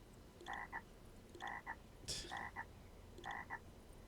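Frog croaks from the Dota 2 video game heard as four evenly spaced bursts of paired, layered calls over steady game background ambience, with one brief sharper noise burst in the middle.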